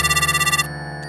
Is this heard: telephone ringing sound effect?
yes